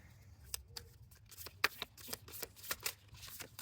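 Tarot cards shuffled and drawn by hand close up, a run of soft papery riffles and flicks with sharper snaps as individual cards are pulled, in a quiet room with no talk.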